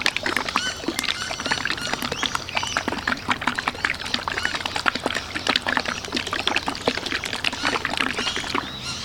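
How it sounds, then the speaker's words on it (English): A bottle of Mr. Black car-care product for restoring a faded Jeep hardtop is shaken hard, making a fast, loud rattle of liquid sloshing and slapping in rapid bursts. "So we'll give the bottle a good shake."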